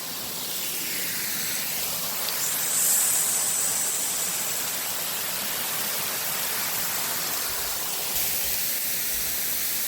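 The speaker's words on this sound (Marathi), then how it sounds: "या धबधब्याखाली यायला मिळत आहे" Water from a waterfall at Marleshwar temple pours down close by as a dense, steady hiss and rush, with a brief swell of spray near the middle.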